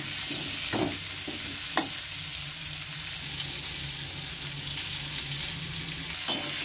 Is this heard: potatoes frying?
yes